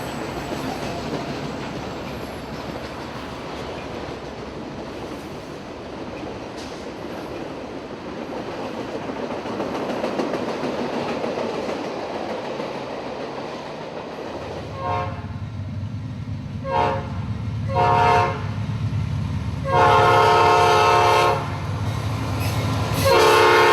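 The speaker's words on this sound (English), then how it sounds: "NS 322, a northbound mixed manifest, is being held up here for a southbound from Chattanooga." Norfolk Southern freight trains at Austell, Georgia, including a northbound mixed manifest, with a long rumble of passing cars and wheels, then several loud horn blasts repeating toward the end, outdoors at close range.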